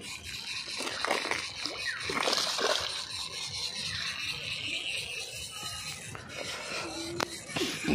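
A fishing net drops and drags through water during katla hook fishing, making steady splashing and sloshing throughout with a few louder splashes, and faint voices mixed in.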